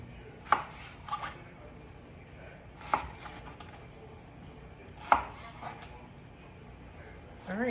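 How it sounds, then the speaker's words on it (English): A knife slicing steak on a cutting board, a few sparse, sharp taps and cuts spaced seconds apart, close and moderately loud over quiet room tone. "we have all of our steak sliced up"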